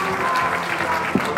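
Audience applause at the founding ceremony of a Gyeongbuk labour human rights centre, a short stretch of continuous clapping with a faint voice underneath.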